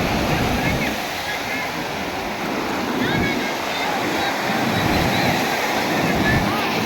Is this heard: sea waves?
yes